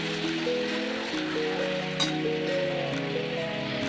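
Water poured a little at a time into melted jaggery in a pan, making a steady bubbling, sizzling patter like light rain that carries on at an even level throughout.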